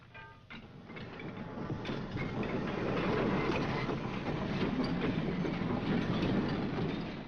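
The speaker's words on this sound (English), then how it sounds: "This train moves at express passenger speeds." A heavy 1957 fully fitted freight train rumbles steadily along the rails at express speed with a broad, rolling roar and faint rhythmic clatter, growing slightly louder before holding steady.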